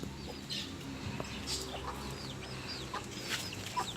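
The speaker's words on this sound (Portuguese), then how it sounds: "Galezinha acabou de sair pra comer." A hen brooding her eggs clucks in low, soft bursts among chirping birds outdoors, with scattered wingbeats and faint farmyard background.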